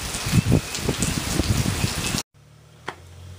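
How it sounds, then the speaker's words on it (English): Steady rain falling outdoors in wet early-year weather, a dense continuous patter of drops that cuts off abruptly to near silence, followed by a single faint drip or knock. "Man, oh man, this has been one rainy beginning of a year."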